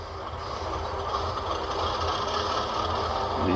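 An Athearn GP40 model locomotive with a DCC sound decoder plays a steady diesel idle, a low rumble and hum that swells slightly and stays even, with no talk.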